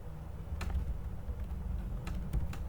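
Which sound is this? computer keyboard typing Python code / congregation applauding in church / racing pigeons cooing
computer keyboard typing Python code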